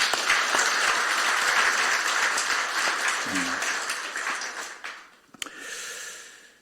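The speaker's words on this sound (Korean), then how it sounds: "격려 차원에서 박수를 좀 쳐줍시다" A church congregation applauds during a Sunday worship service, a dense wash of clapping from many hands that fades out toward the end, with a brief voice partway through.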